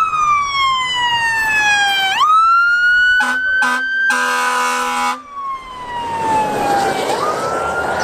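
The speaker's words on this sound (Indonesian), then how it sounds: "Widih, ada truk pemadam kebakaran." An electronic toy fire truck siren wails up and down in sliding tones, broken by a few short beeps and a buzzy horn blast, loud and close.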